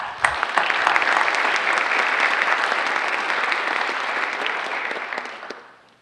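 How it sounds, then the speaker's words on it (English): An audience applauds at a high school National Honor Society ceremony, dense sustained clapping from a large crowd that holds steady for several seconds, then tapers off and fades out. "You too deserve a round of applause."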